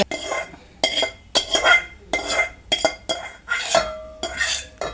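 A metal spoon scrapes and clatters against pots as mashed cooked dal is scooped and transferred into a big bowl, in repeated close bursts of clinking and scraping.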